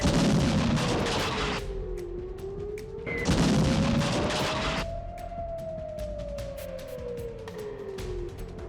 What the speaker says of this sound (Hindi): अंधेरी रात और आसमान से बरसते बम।